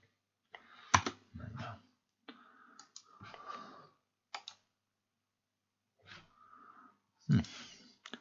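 Several sharp clicks of a computer mouse being right-clicked at a desk, scattered among soft breathing and mouth noises, close and fairly quiet.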